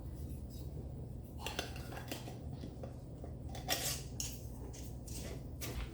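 Reused metal lids go onto glass jars of pesto, giving a scatter of light clinks, taps and twisting clicks, close by but quiet, with no talking.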